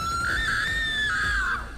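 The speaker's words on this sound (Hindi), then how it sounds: "ये सब देखकर प्रिया जोर से चिल्लाती है" A woman lets out a single sustained, high-pitched scream lasting nearly two seconds, loud and alone, as a horror story sound effect.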